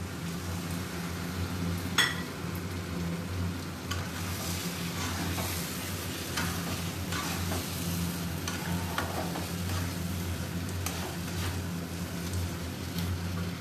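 Paneer sizzles and fries steadily in a pan while being stirred, with a dense, continuous crackle and occasional soft scrapes and clinks, fairly close and alone without talk.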